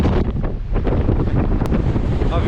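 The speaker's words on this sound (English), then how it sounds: "It is windy." Strong wind buffets the microphone at a campsite, a loud, continuous roaring rumble with gusty surges throughout, and no voices.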